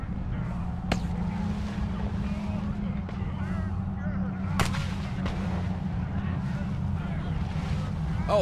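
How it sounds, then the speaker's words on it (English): Grand mortars boom in a dark fantasy action game, two sharp distant blasts over a constant low rumble and wind-like roar, with background voices murmuring in the mix. "Oh, heavens! They're using the grand mortars!"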